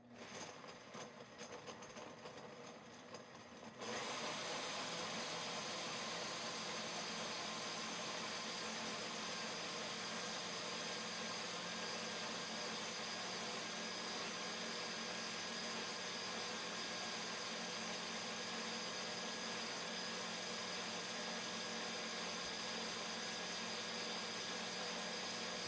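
An electric blender whirs loudly and steadily, blending a banana and ice-cream smoothie after a few seconds of quieter handling noise, with a constant motor drone and no speech.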